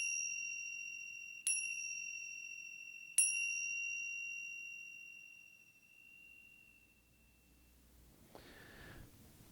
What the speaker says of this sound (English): to stop the meditation, there'll be 3 chimes, and it sounds like this